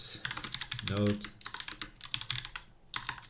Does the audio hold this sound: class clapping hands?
no